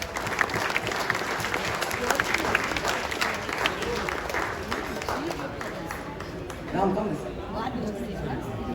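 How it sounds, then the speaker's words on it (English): Audience at an amateur golf prize presentation applauding a prize winner, a steady sustained round of many clapping hands with crowd chatter mixed in. "Can you have a big round of applause for her?"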